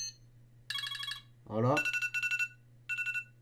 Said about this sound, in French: Donc on peut aller choisir dans les sonneries.